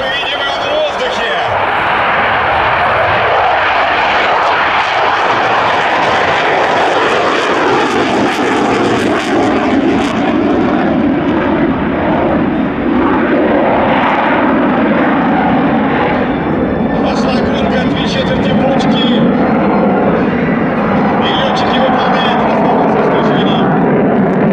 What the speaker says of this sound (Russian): Вы уже слышите, как МиГ-35 приближается к нам.